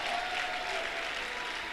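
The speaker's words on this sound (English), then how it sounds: "Can you please give her a resounding round of applause?" Sustained applause at a college graduation ceremony for Pauline Tallinn, a dense, even wash of many hands clapping throughout the short stretch.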